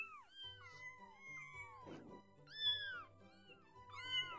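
A cat in the VRChat game gives several rising and falling meows, some drawn out into a whiny caterwaul. They come in quick succession over a quiet background with a faint voice.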